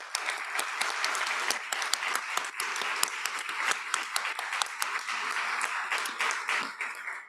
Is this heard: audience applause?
yes